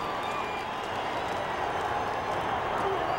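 Stadium crowd at a 1998 Broncos home football game against the Seahawks, a steady roar of fans on their feet, broad and sustained throughout.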